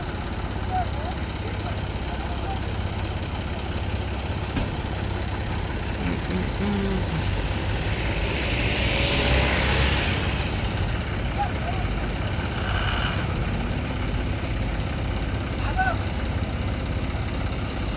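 A JCB and a tractor hold and pull a lorry loaded with harvested grain sacks, and their engines give a steady, droning idle throughout, with people talking over it.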